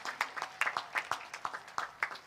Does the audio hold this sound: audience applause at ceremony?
yes